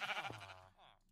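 Sheep bleating in Minecraft, a short wavering game bleat heard up close, with a sharp click at the very end.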